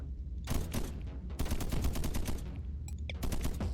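Laser turrets in a video game fire in rapid, crackling bursts, volleys of sharp shots repeating in clusters with brief gaps between them.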